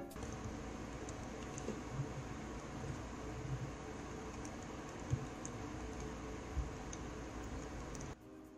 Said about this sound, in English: the typing is extremely quiet